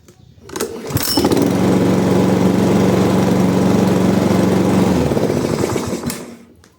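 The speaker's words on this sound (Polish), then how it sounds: "Ostatnie odpalenie i pozostaje nam nic, jak tylko cieszyć się sprawną i kosiarką gotową do pracy" A Loncin lawn mower engine with a newly replaced thermostat and automatic choke pulls into life and runs at a steady, loud drone for several seconds before cutting off.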